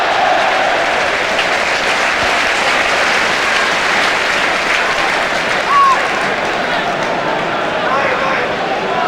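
Large football crowd applauding at Upton Park, a dense, loud wash of clapping that holds steady throughout, with faint voices mixed in.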